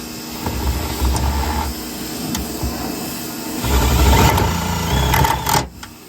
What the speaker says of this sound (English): Don't mind the power washer